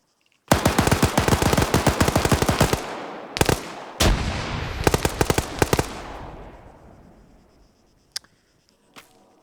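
Gunfire in an esports shooter video game match: rapid automatic bursts of loud shots, a pause, then more bursts with brief reload gaps, fading into a few scattered single shots.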